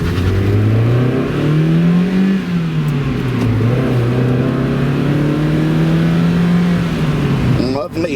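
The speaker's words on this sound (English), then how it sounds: "Lovely exhaust note" A Mazda MX-5 Miata's engine revs up and holds a loud, throaty exhaust note, rising and dipping with throttle over several seconds before a shift near the end, heard close from inside the car.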